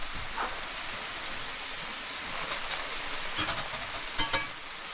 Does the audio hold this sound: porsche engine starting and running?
no